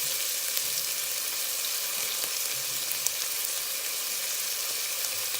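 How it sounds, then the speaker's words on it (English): Onions, garlic and ham saute in a pot with a constant, even sizzle and faint crackles, close and steady with no talking. "We're just going to saute that for a good 3 to 5 minutes."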